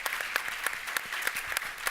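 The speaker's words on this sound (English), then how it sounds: "Let's give them one more round of applause." Applause from a music festival panel audience, a steady wash of many hands clapping with sharp individual claps standing out, moderately loud and continuous with no talking.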